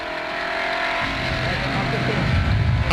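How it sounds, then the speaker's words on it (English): A Porsche 911 historic rally car engine roars loud and steady at close range, climbing in pitch as it accelerates during a 1997 Killarney historic rally stage. "Keatley is on the attack from the start, but the Maharafeld driver's Porsche 911 has a misfire."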